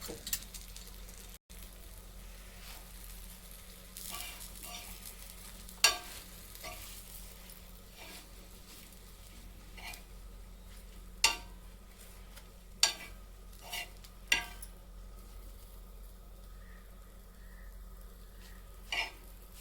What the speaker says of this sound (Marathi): आता राहिलेला मसाला आपण त्याच्यात टाकून तोही परतून घेऊयात